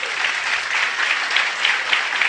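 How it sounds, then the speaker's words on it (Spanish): A church congregation at an Easter week congress claps in loud, sustained applause, a dense, continuous patter of many hands with slight surges, no voices above it. "denle un fuerte aplauso al Señor"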